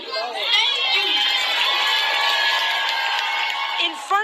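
A large crowd cheers and shouts steadily throughout, with high children's voices and whoops mixed into a dense, loud roar of applause at a school event.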